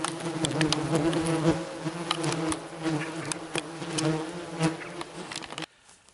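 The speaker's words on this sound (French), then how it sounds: "comme vous avez pu voir, la guêpe des buissons, c'est des attaques qui sont très rapides" Bush wasps swarming in attack around their nest, a dense, loud buzzing of many insects with wingbeat drones rising and falling up close, then cutting off abruptly near the end.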